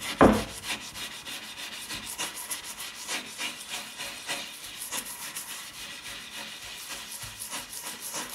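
An axe being sharpened to a convex edge with light forward strokes, giving a soft, repeated scraping rub in a steady rhythm, close by with no talking.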